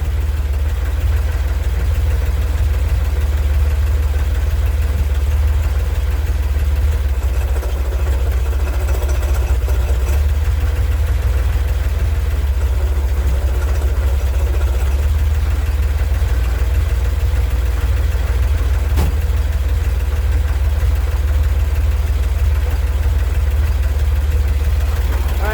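A Corvair engine idles steadily and loudly with a deep, constant rumble while its transmission is shifted into gear, with no talking over it.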